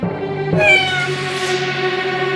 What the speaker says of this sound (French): ils entendirent un chat miauler